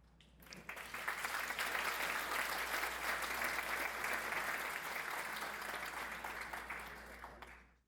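An audience at an Alzheimer's disease research conference breaks into applause that swells quickly, holds steady and full for several seconds, then cuts off.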